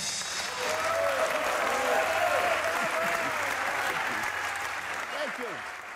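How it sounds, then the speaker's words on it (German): A circus audience in a big top claps loudly and continuously, while a voice talks over the applause and the clapping eases slightly near the end. "Der Applaus gehört nicht mir,"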